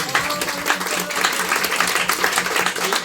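Applause from the audience at a Spanish-language microfiction reading by a Puerto Rican author, a steady, close, fairly loud burst of many hands clapping that holds without pause.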